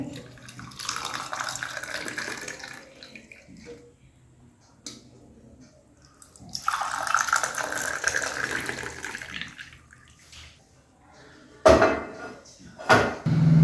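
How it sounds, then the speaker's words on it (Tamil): Water is poured from a vessel over a few drops of squeezed lemon to make hibiscus tea, a steady splashing pour that pauses and resumes, ending in a few sharper clinks, with no voices. "இப்போ ஒரு தண்ணி எடுத்து அதில் ஊற்றுறேன்."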